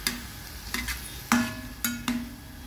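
A spoon scrapes and stirs through tomato sauce with added water in a pan, giving several sharp clinking strokes against the metal over a soft, steady sizzle.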